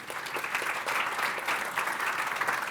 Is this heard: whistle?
no